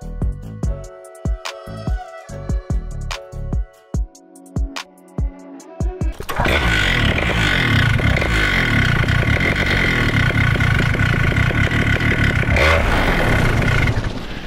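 A Vittorazi Moster 185 paramotor engine during low-speed carburetor needle adjustment: several sharp separate pops and blips at first, then it catches and runs at a loud, steady, buzzing idle close by.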